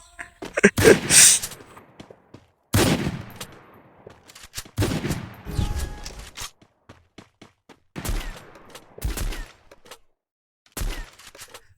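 Gunfire from the mobile battle game Free Fire during a 2 vs 2 match: several loud, sharp bursts of shots arriving in separate clusters with short silent gaps between them, close and punchy.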